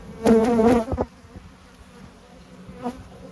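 Honeybees buzz loudly close by at an opened hive during a brood check, a strong burst of buzzing followed by quieter rustling and a brief later buzz.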